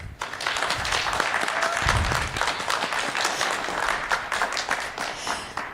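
Audience clapping at a school grade-level spelling bee, a dense, steady round of applause from a crowd filling the room for several seconds before thinning slightly.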